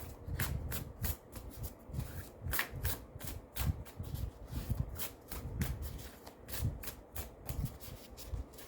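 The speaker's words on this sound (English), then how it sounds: "Let's give it a few more shuffles." Tarot cards being shuffled close by, a rapid series of crisp riffles and soft slaps repeating in quick bursts with no talking.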